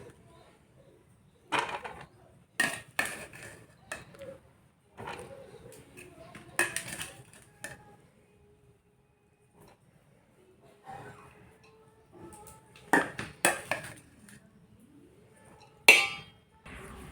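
Ghee and rice spooned into a pot while layering chicken biryani: a series of sharp metal clinks and scrapes of a spoon against the pot, in irregular bursts with quiet gaps, close by and with no talking.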